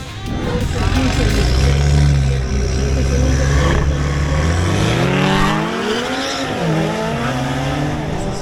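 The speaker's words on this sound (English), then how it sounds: "Pablo Galán in his Audi RS3 makes another run" Audi RS3 launching on a drag race run, the engine note rising in pitch through several revs and gear changes, loud and close, with a commentator talking over it.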